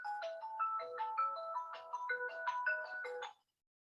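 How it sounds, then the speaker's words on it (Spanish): A phone's ringtone plays a bright electronic melody of short stepped notes that repeat in a quick pattern for a few seconds and then cut off into silence. "Va a sonar ahí el tiquitín del teléfono"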